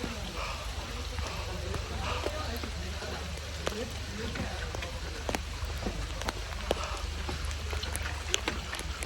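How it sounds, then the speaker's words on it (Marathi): Steady rain patters outdoors on a monsoon trek near Lohagad Fort and Bhaje Waterfall in Lonavala, a continuous even wash of drops with a few sharper taps, moderately loud and with no talk over it. "मस्त पाऊस पडतोय"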